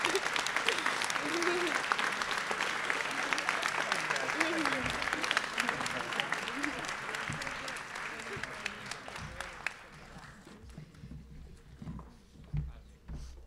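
A school audience at a senior class night gives sustained, dense applause for the advisors, with voices mixed in. The clapping thins and fades after about ten seconds, leaving scattered claps and murmuring.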